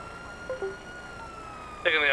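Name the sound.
police car siren in video game GTA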